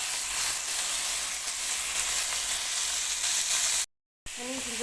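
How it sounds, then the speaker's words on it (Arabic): Chunks of shish tawook chicken stir-fried in a hot pan give a steady, loud sizzle and hiss with stirring. A short silent gap breaks it near the end, then the sizzling returns with faint tonal sounds. "ونبتدي بقى نشوح فيها كده، نديها الصدمة بتاعتنا"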